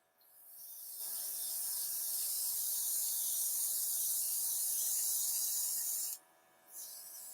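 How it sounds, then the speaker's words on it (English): Luminess cosmetic spray hisses in one long continuous burst for about five seconds, stops briefly, then resumes with a shorter spray, close and clear with no talking. "I'm going to spray too heavy"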